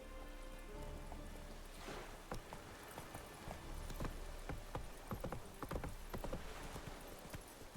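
Hooves of the horse Roach clip-clop steadily in The Witcher 3, a running gallop rhythm of sharp close hits over a constant rain-like ambient wash, with no talking.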